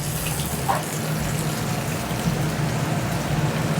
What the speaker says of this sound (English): see how the water boils?